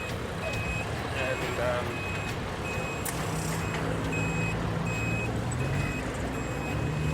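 An Australian road train truck manoeuvres around a roundabout, its reversing beeper pulsing steadily at moderate volume over a continuous rumbling engine while people talk.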